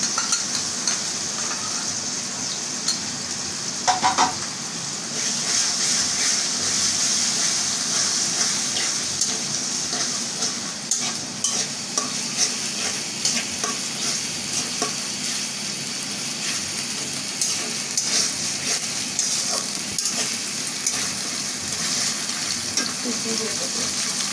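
Ginger, garlic and chili paste fry in hot oil in a pan, giving a continuous soft sizzle broken by the scrape and clatter of stirring, moderately quiet and heard alone.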